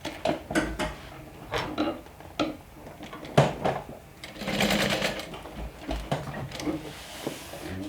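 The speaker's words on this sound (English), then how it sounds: "So I'm gonna go ahead and baste that in place." A sewing machine bastes a strap in place during final assembly of a Wayfarer 2.0 style bag, running in short bursts and one longer steady run, with close handling clatter between stitches.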